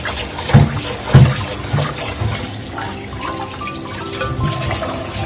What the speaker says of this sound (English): First, my Abah wash the rice.